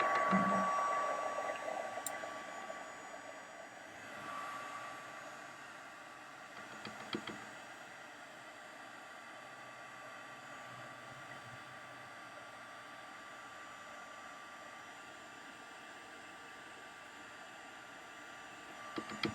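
A heat tool blows steadily and close for the whole stretch while heating embossing powder on a handmade vellum card, giving an even, constant whooshing hiss.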